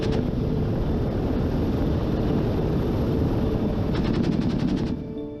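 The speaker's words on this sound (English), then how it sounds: "Just listen to it. Also, interesting little fact, it is the same autocannon that is used in the Mi-28 attack helicopter." The BMP-2's 30 mm autocannon in a video game pounds out a long, dense, loud roar of continuous fire, closing with a brief run of distinct rapid shots before it cuts off.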